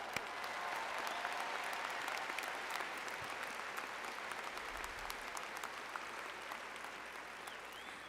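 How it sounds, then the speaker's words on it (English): Audience at a spring 2024 university commencement ceremony applauds the graduates in a steady, even wash of clapping that holds at moderate loudness throughout, with no voices standing out. "Please give a big applause"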